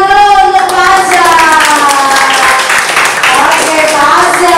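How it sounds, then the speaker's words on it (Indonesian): In a classroom, pupils clap for a classmate, loud and close, while children's voices ring out over the clapping. "Tepuk tangan dulu untuk Pasha."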